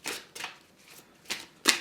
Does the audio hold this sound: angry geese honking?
no